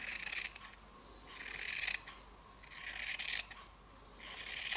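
Scissors snip around a fabric circle about a quarter inch from the stitching, several rhythmic crisp cutting strokes close to the microphone, quiet between each cut.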